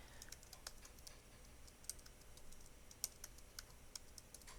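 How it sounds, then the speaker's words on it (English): Light typing on a computer keyboard, quick irregular key clicks with a few sharper taps, close and fairly quiet. "I'm just clicking and typing."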